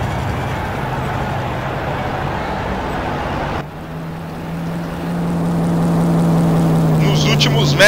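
Formula Truck racing trucks run at the Tarumã circuit in the racing game GTR Brasil, with a sustained engine drone under commentator speech, then a steadier, louder engine hum that builds toward the end.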